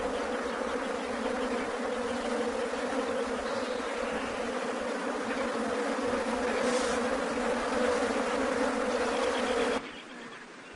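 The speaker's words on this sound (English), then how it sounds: "Flies try to gain access to the smallest crevices, not for feeding, but for laying eggs." Flies and other insects buzz steadily and close around rotting carrion in the African wild, a dense continuous drone that holds until it suddenly drops away near the end.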